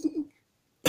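A person coughs twice in quick succession, close and fairly loud, then a short silence before another burst of harsh noise at the end.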